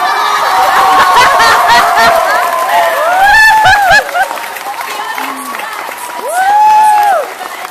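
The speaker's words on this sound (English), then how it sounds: "Clapping and shouting for" An audience at a youth talent show cheers, shouts and claps for the winner, a loud crowd roar with whoops and laughter rising and falling, swelling again near the end.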